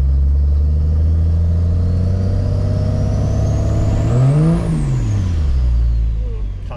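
Third-generation Cummins diesel pickup truck accelerating hard on hot pavement, engine note climbing steadily then peaking and dropping through a shift while tires spin and slip, loud and close throughout.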